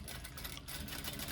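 A sewing machine running steadily to stitch a seam on a small fabric bag, a fast even mechanical whir with rapid needle ticks, close and continuous, no speech.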